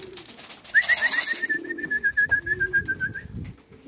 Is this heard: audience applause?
no